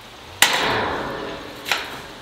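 A rubber mallet striking the end of a metal farm gate, two sharp impacts about a second apart, the first louder with a ringing metallic decay, heard close with no talking.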